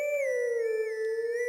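A wolf howls a sustained, wavering tonal note in the video game The Legend of Zelda: Twilight Princess HD, steady and clear with no other sound around it.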